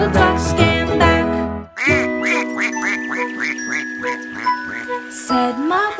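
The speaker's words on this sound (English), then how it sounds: "Mother duck said quack, quack, quack, quack." Cartoonish duck quacks in a children's nursery rhyme, a rapid run of bright, evenly spaced quacks over tinkling music.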